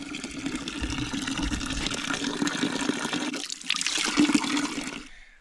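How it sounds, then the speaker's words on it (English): Steady rushing water flows continuously through a pipe, then briefly quiets before a final gurgling surge that fades out at the end. "while we wait for the water to circle through the pipe"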